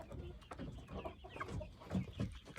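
A Buff Orpington hen clucks softly in the evening, low murmuring clucks in short bursts, faint and close, with some quiet background noise.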